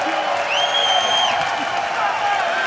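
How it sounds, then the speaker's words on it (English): A London crowd at a 2014 European League of Legends esports match cheers and whoops in a large hall, a steady roar with a shrill whistle rising above it, under an announcer's voice. "If you just let them cheer for a second."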